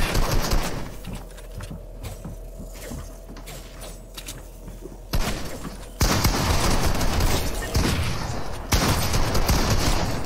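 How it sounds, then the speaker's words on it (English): Rapid gunfire from a three-way firefight in a video game, crackling bursts that grow louder and denser in the second half, over a steady hum and birdlike ambience, with no talking. "Three-way firefight. They're just in a triangle shooting at each other."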